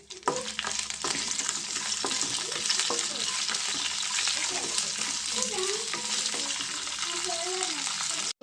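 Dried chillies, mustard seeds, cumin, chana dal and urad dal fry in about two spoons of oil in a pan, making a steady close sizzle with occasional stirring scrapes. A faint voice is heard now and then.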